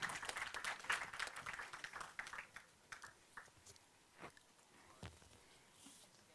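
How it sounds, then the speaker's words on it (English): Brief applause from the audience at the World Islamic Economics and Finance Conference 2024, soft and somewhat distant, tapering from a dense patter into a few isolated claps. "A warm round of applause,"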